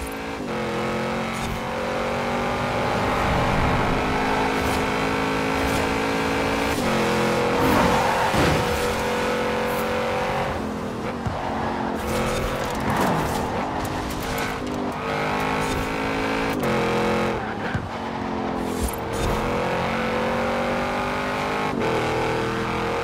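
An Audi RS7 in a night race in a video game, its engine revving hard and shifting through gears with brief tyre squeals, loud and continuous for the whole stretch.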